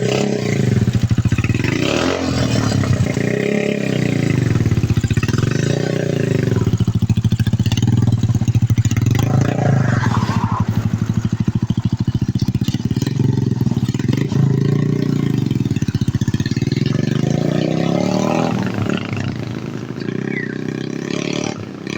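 A Yamaha Sniper 135 motorcycle engine runs continuously and loudly up close, with a rough idle rising into repeated revs and a rattly, clattering tone throughout.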